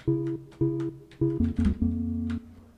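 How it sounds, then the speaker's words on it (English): Synth notes from a DubTurbo plugin with reverb, a short repeating melodic pattern of tonal hits whose tails ring and blend together, loud and close with no talking. "Now we'll add a little reverb."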